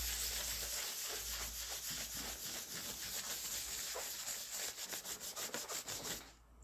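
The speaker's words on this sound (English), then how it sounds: "Give it a nice wipe and a buff." A cloth wipes and buffs the body of an Ibanez Talman bass, making soft, steady rubbing strokes that quicken into faster rhythmic swipes near the end, quiet and close.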